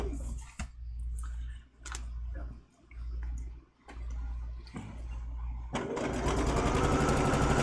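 A sewing machine stitches rickrack onto a quilt with a low, steady motor hum and soft ticking that pauses briefly a few times. Near the end the hum gives way to a louder, brighter whirring rush.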